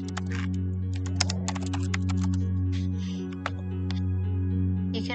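Rapid clicking keystrokes on a computer keyboard as a card name is entered, close and crisp over a steady electrical hum.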